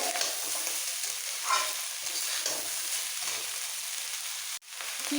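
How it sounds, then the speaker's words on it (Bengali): Basmati rice and sugar are stirred and fried in a pan, giving a steady close sizzle with soft scraping strokes throughout and no talking. "যতক্ষণ পর্যন্ত ড্রাই না হচ্ছে কন্টিনিউ এরকমভাবে নাড়াচাড়া দিয়ে দিতে হবে"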